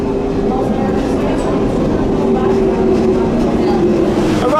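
The Kuala Lumpur monorail train rumbles steadily from on board with a continuous low roar and some rattling, close and loud throughout, with faint voices in the carriage underneath.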